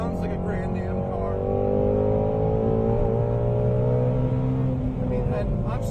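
A car engine drones and revs steadily in third gear, its pitch climbing gradually toward the redline, loud and close throughout with some talk faintly mixed in.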